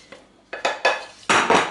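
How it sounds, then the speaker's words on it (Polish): Vegetables for a potato and pickled cucumber salad being chopped: four or five sharp, close knocks of a knife on a board, spaced irregularly and getting louder. "I teraz rozdrabniam warzywa."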